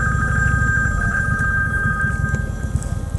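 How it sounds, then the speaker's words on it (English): A telephone rings steadily with an incoming call, a continuous bright ringing tone over a loud, rumbling low background like a running vehicle, with no speech. "And getting a phone call."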